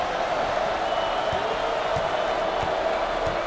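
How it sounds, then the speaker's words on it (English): A hometown arena crowd in the NCAA Basketball 10 video game, Texas vs Kansas State, sends up a continuous roar of applause and cheering, dense and steady, with a few dull thumps underneath. "And this hometown crowd is showing their appreciation."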